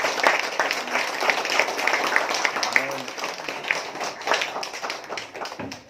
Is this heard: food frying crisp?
no